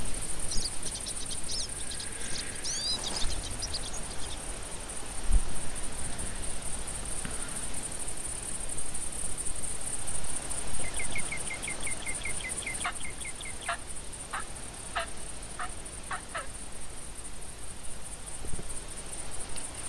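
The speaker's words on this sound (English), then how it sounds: "that sound was clearly a hen" A female wild turkey hen calls in The Hunter hunting video game, with faint clucking bursts and rapid yelps over a steady high insect-like drone of ambient forest noise.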